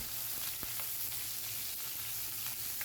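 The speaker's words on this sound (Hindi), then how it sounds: "बारीक कटा हुआ प्याज को जो है फ्राई करेंगे ऑयल में डाल के" Finely chopped onion frying in a little hot oil over a medium flame for aloo gobhi, a continuous close sizzle with occasional faint stirring clicks.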